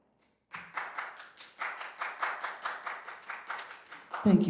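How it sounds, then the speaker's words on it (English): Two hands clap in a slow, steady series of about fifteen distinct claps at a senior academy music talk, fairly close and moderately loud. A brief voice sound comes at the very end. "The sound of two hands clapping."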